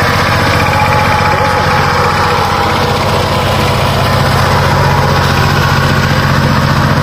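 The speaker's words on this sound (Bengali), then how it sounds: "এই আমাদের অঞ্চলে পাওয়ার টিলার আর এই হচ্ছে বিদ্যুৎ চালিত মোটর কৃষকদের একটা কিন্তু মহা মূল্যবান সম্পদ" A power tiller engine runs steadily and loudly nearby, a continuous throbbing mechanical drone with rattling overtones that holds an even level for the whole stretch, with no voices.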